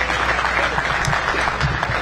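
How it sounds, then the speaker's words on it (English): Spectators at the Boston Open junior pool final give the two finalists a big, steady round of applause, which stays full and even throughout. "let's have a big round of applause, not just for our 2 finalists, but for all the juniors playing here in Boston"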